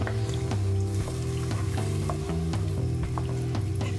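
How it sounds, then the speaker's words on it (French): Turkey pan juices sizzling and bubbling steadily in a hot pan as water is added and the bottom is scraped, a continuous close frying hiss with no talking. "Je gratte bien le fond pour bien décoller tous les sucs de cuisson de la viande."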